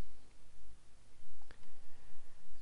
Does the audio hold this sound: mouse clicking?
yes